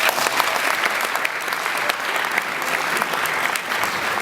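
A banquet room at a prestige evening of the Fédération des Amicales du Cantal fills with loud, sustained applause, dense clapping holding steady throughout with no break.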